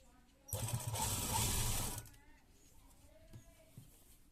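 Sewing machine running in a burst of fine stitching along a garment neckline, a steady whirring hum that lasts about a second and a half before stopping, followed by quiet room sounds.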